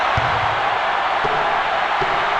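Loud, steady crowd roar from the NCAA March Madness 2001 basketball video game on PlayStation, a dense continuous wash of arena noise with a few faint thumps underneath.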